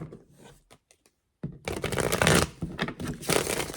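A tarot card deck is shuffled nearby, with a few soft riffles and taps first, then a short pause, then a long burst of dense, crisp flicking and riffling.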